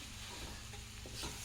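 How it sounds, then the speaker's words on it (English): A flour and milk roux is stirred in a pan, giving a soft, close scraping and gentle sizzle for a brief moment, quiet and without talk. "add a little and mix and stir with the flour"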